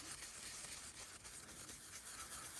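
Soft continuous bristly rubbing of a paintbrush worked in circular motion around a sandy miniature base, close and faint, steady texture throughout without talk.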